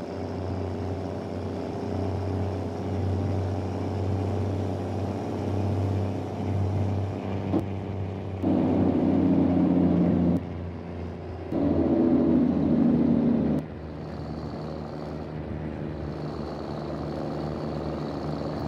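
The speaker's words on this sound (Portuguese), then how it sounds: "Agora tá com o barulho aqui do motor mais semelhante ao 1113" A Mercedes 1113 truck engine in Euro Truck Simulator 2, pulling a box trailer out of Hortolândia, drones steadily at low pitch throughout, swelling louder twice in long stretches as the revs rise, then dropping back to a constant rumble.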